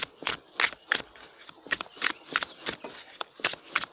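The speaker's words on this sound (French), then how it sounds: "je vais tirer 2 cartes" Tarot cards being shuffled and drawn by hand, a steady run of crisp riffling slaps and flicks repeating every fraction of a second, close and fairly quiet with no talking.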